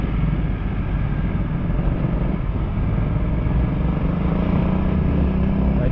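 A Honda Giorno 125 scooter with a 4-valve engine, running steadily with a loud, continuous low drone and road or wind rumble, no breaks throughout.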